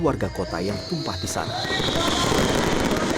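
Fireworks burst over the town square in Madiun at night at the opening of a silat festival, heard as dense crackling and booming beneath a cheering crowd and an overlaid narrating voice.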